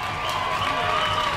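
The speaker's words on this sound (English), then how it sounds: "He's going to get a big cheer." A hockey arena crowd at a youth prospects game cheers for a player, a sustained distant roar with mixed voices blending together throughout.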